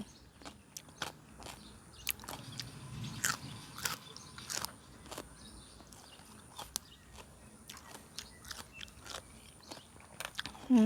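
Someone eats a Lao-style home meal of cucumber salad and fried egg with cha-om, chewing and biting in repeated close, crisp crunches over about ten seconds. No one speaks.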